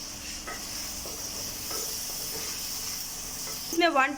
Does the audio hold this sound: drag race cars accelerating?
no